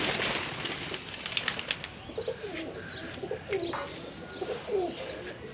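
A high-flying pigeon in Faisalabad flaps its wings in quick soft bursts amid nearby cooing and chirping from other pigeons, fairly close over low outdoor background noise.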